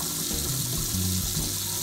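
Tap water running over a small aquarium drain hose held under the faucet, a steady close hiss and splash with slight gurgling changes as the hose is pulled through.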